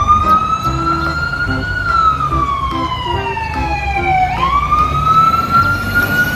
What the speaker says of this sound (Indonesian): selanjutnya di sini ada mobil pemadam kebakaran.